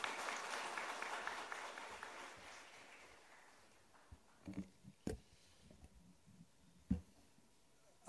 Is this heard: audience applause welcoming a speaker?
yes